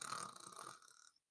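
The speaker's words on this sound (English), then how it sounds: "They heard a rumbling snore coming from the bedroom." A single rumbling, throaty snore, low and rough, swelling then trailing off into silence after about a second.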